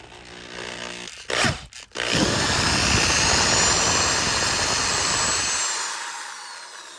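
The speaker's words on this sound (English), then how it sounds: "I'm over here getting the drill ready" A power drill, used on a car stabilizer link bolt, whirs loudly and steadily for several seconds after a couple of brief bursts, then winds down and cuts off.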